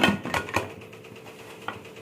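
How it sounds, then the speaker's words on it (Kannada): A pressure cooker lid being closed over green mutton chops, giving a few quick metallic clanks and scrapes up close in the first half-second before the sound fades to quiet. "ಕುಕ್ಕರ್ ಮುಚ್ಚೋಣ."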